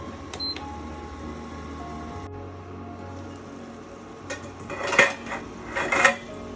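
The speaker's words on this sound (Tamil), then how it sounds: "நான் மூடி வைக்கிறேன்" A lid goes onto a cooking pot on a stove with a few close metallic clinks and clatters near the end of a quiet stretch, with no talking.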